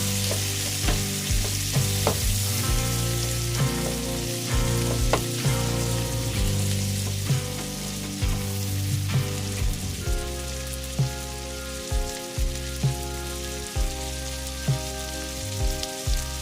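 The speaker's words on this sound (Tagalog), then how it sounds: "Parang naluluto na yung onion dyan habang nagpapaluto tayo ng salmon." Onion fries in a pan alongside salmon, a continuous sizzle with frequent stirring taps and clinks, heard over steady background music.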